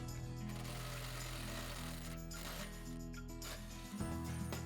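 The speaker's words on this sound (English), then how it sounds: "So now let's go ahead and remove our locking bolts." A power tool works loose the locking bolts on a Turning Point fifth-wheel pin box, giving a loud, steady mechanical rattle and hum that runs almost the whole clip before cutting off near the end.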